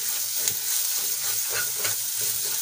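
Green chilies and Kashmiri chili powder sauté in a hot pan, a steady bright sizzle broken by a few soft stirring scrapes, close and continuous without any talking.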